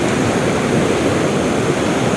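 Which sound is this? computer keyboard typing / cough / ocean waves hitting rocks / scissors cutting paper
ocean waves hitting rocks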